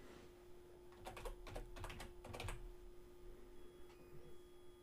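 Short bursts of quiet computer keyboard typing, a few quick clusters of key clicks over a faint steady electrical hum, then stillness.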